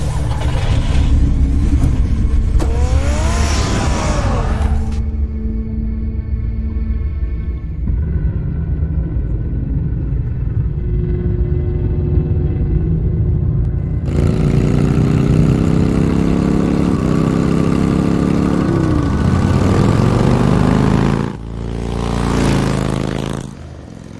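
Batman's car engine in Telltale Batman, a loud sustained rumble that revs up and settles into a steady drone, rising again in surges as the car pulls away, with musical tones riding over it.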